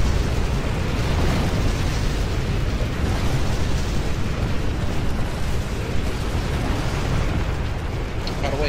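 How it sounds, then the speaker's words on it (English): Inferno cannons and artillery pound away in the real-time strategy game Rise of the Reds, a dense, continuous roar of overlapping blasts and fiery bursts with no clear gaps, loud throughout. "Dutchy is burning IPS forces alive with those inferno cannons"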